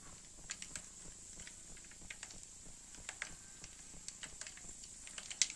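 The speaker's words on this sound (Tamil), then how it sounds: "கடுகு சேர்த்தாச்சு நல்லா பொரியட்டும்" Mustard seeds splutter in hot oil while a citron pickle is prepared: a faint, steady sizzle dotted with scattered small pops and crackles at irregular intervals.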